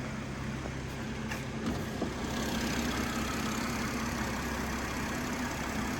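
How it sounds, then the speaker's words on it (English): A BMW 440i M Sport's twin-scroll twin-turbo straight-six idles with the bonnet open, a steady low hum with a faint mechanical whir, even and unbroken, with no talking. "this is our straight 6 twin power turbo engine"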